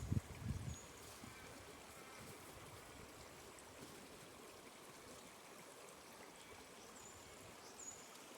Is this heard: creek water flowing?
yes